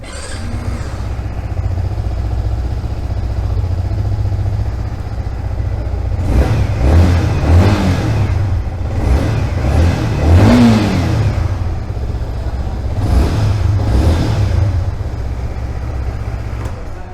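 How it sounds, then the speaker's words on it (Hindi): A Yamaha MT 15 DLX motorcycle idles steadily and then gets several sharp throttle blips that rise and fall, loud and close, with no talking. "साउंड मैं आपको सुना देता हूँ लगे हाथ इसके इंजन का"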